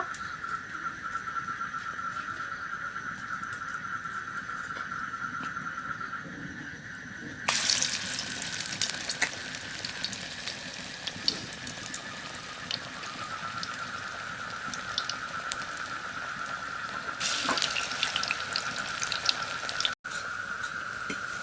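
Helencha greens and coriander pakoras fry in a pan of oil with a continuous crackling hiss. The hiss swells and brightens at two points as more fritters are added or turned, and no one speaks.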